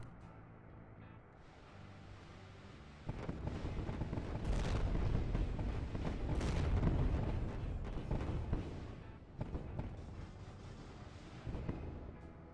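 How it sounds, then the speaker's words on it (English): An enemy ship firing missiles during space combat in the video game Wayward Terran Frontier: Zero Falls, with booming blasts and rumbling impacts that build to a loud peak midway, then trail into scattered quieter bursts. "Remember, he too has missiles. That's what he's shooting at me."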